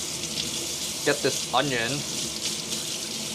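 A kitchen tap runs steadily while a knife is washed, the water hiss continuous and close as a person speaks briefly over it.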